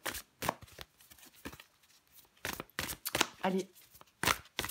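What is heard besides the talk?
drawing a tarot card from the deck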